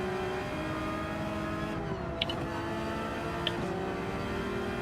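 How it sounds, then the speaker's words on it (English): Subaru WRX race car in Gran Turismo 7 droning along with a steady engine note and shifting tones as it passes, plus a couple of brief sharp clicks over the engine. "Let old mate with the WRX go past"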